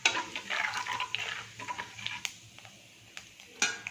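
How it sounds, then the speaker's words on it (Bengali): Cumin and nigella seeds go into hot oil for a Bengali cauliflower, potato and fish curry, giving a bright crackling sizzle that is loudest at first, then thins into scattered pops and a few sharp clinks. "এবার বন্ধুরা একই তেলে আমি দিয়ে দেব জিরে, কালো জিরে"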